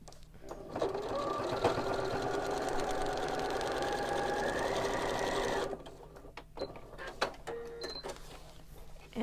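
A sewing machine runs steadily for about five seconds while stitching quilt block pieces along a solid line, then stops, followed by a few light clicks and handling sounds.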